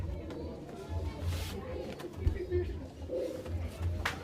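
Pigeons in a loft coo in repeated low, throaty pulses, close and fairly soft, over a faint background of rustling and movement.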